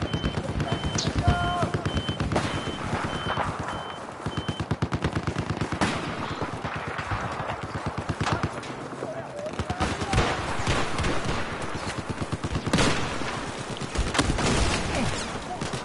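Rapid automatic gunfire from Battlefield 4 rattles in bursts alongside sharp single shots, loud and close, with a player talking over the battle noise.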